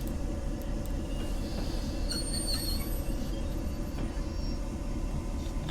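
A Clinchfield Railroad train of F units hauling empties rolls and brakes in Train Simulator 2020, a steady low rumble of wheels on rail with faint high brake squeals and no talk.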